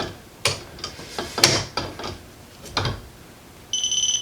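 Half-inch torque wrench on an Ohlins fork performance kit fitted to Ducati 996 forks, with a series of close ratcheting clicks and sharp metallic snaps at an uneven pace, followed by a short high electronic beep at the end.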